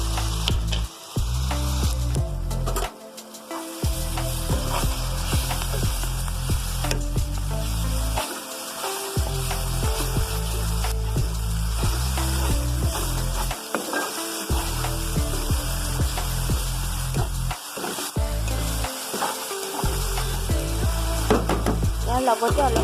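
Garlic-ginger paste frying in a pan for mutton liver curry, a continuous close sizzle broken by scraping stirs of a spoon against the pan.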